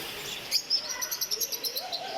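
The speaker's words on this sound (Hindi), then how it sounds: "ये ऑस्ट्रेलियन तोते यहाँ मौजूद हैं," Australian parrots in a bird park in Qom give quick, faint chirps and tweets in a rapid series, heard at a distance over soft ambient noise.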